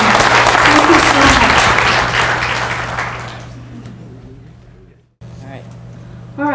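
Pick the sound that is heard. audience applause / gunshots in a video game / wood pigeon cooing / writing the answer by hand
audience applause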